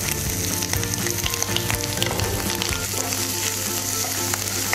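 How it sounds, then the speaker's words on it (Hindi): Chopped onion, green chili and tomato sizzle loudly in hot oil in a pan for uttapam, a dense, steady crackle with soft stirring scrapes running throughout. "इसे अच्छे से चलाते हुए पकाएंगे"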